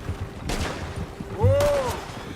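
Gunfire in the Western video game Red Dead Redemption: a couple of sharp, booming shots ring out over a low background hum, the second followed by a rising, wavering tone.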